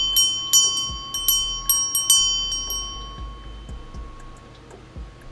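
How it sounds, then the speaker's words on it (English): A small hand bell is struck about ten times in an uneven rhythm during a live tarot reading. Each clear ring decays between strikes, close and alone. "Let me go ahead and ring this bell."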